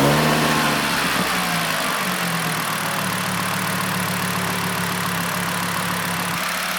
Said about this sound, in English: Let's give the car a good start and see if it idles any better.